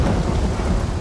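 A thunderstorm in a rainforest, with lightning and heavy rain: a loud, steady roar of rain and rumbling thunder fills the whole second without a break.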